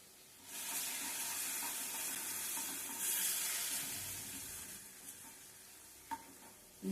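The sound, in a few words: onions and masala frying in a pan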